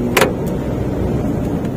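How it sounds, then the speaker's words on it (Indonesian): A car's power window opening inside the cabin during a hill-start lesson with an automatic car, a brief switch click followed by a steady motor whir under the vehicle's interior hum. "Tak buka kaca ya."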